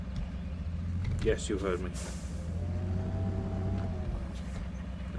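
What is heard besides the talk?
truck engine driving toward a river in video game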